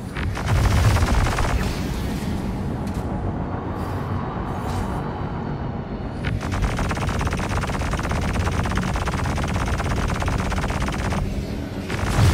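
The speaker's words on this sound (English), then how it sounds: "Fire the missiles." Missiles fired in the Star Citizen video game, dense rapid volleys of loud rattling bursts over a roaring rumble, with a brief lull before the barrage resumes and continues to the end.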